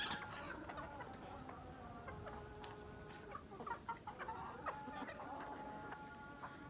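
A flock of hens at a small backyard home poultry farm clucks and chatters in a busy, overlapping chorus, some calls nearer and others farther, over a faint steady background.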